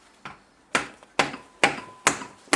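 A hammer strikes a piece of wood set against a massive 70 kg vice under restoration, six sharp knocks at a steady, roughly half-second rhythm, each decaying quickly into quiet, close and alone.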